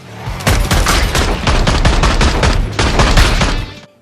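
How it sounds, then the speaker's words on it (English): Rapid gunshots fired at zombies in Zombieland Headshot Fever, a dense run of loud, sharp shots in quick succession with brief gaps, close and alone. "Double tap a zombie in the head with a well-placed bullet"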